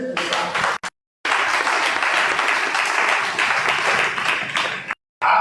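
Congregation at an evening church teaching service breaking into loud, sustained applause and cheering for Jesus, a dense crowd roar that cuts out briefly twice.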